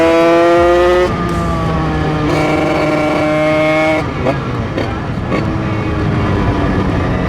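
A small scooter engine fitted with an 86cc aluminium top end runs loud and close on gravel, its whining pitch climbing and dropping in steps as the throttle opens and closes.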